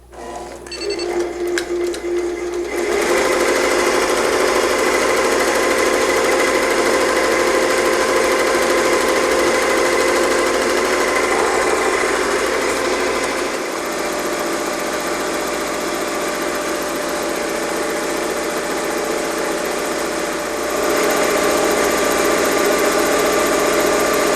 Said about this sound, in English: come on over to the machine and we'll start sewing one out